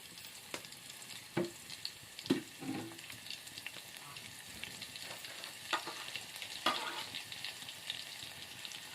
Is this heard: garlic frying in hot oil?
yes